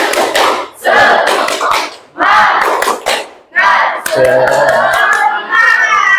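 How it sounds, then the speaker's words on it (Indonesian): A classroom of pupils performs a rhythmic spirit clap, loud bursts of clapping and shouting in repeated sections separated by short pauses, ending in a longer stretch of clapping mixed with voices. "Kita coba tepuk semangat."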